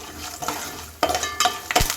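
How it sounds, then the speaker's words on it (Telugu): A peeled garlic clove drops into hot tempering oil and sets off bursts of sizzling and spattering, with sharp crackling surges at intervals. "ఒక వెల్లుల్లిపాయ పొట్టి తీసుకున్నది వేసుకుంటున్నానండి తాలింపులోకి"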